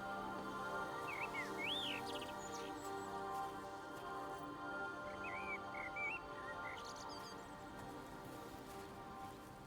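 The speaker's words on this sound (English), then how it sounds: "Love the birds humming." Ambient birdsong from the game Everybody's Gone to the Rapture, with several clear chirping and warbling calls in bursts near the start and middle over a constant soft background wash.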